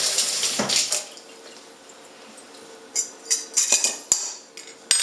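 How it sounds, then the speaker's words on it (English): Eggs for a traditional Chinese tomato and egg dish are cracked and beaten in a bowl, with a few sharp clinks and taps against the rim over a faint running-water hiss, the clatter clustering toward the end. "So you beat them in the bowl"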